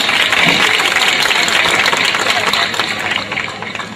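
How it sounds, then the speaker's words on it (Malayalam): Audience applauding at a Mappila song stage show, a dense, loud wash of clapping that holds steady and then tapers off toward the end. "എല്ലാവരും കൈയടിച്ച് പ്രോത്സാഹിപ്പിക്കണം."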